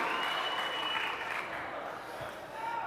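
A university graduation audience in a hall applauds steadily, a dense, continuous wash of clapping from a large crowd with a faint voice underneath.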